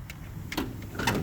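A drawer in a mechanic's tool chest slides open with a short metallic rolling rattle and a couple of light clunks, close and moderately quiet.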